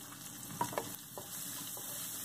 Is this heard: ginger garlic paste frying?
yes